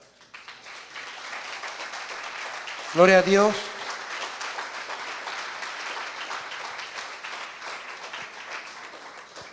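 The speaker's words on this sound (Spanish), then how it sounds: "Den un aplauso al Señor" A church congregation claps steadily in sustained applause for several seconds while a preacher's voice calls out briefly over it.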